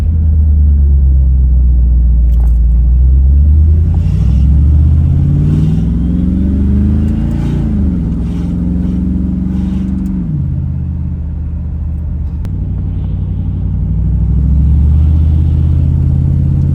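A Chevrolet S10 pickup with a 305 V8 and a mini spool drives along with a steady, loud low engine rumble that swells and revs midway before settling back, with no talking.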